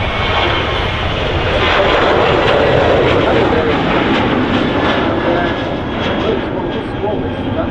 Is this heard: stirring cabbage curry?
no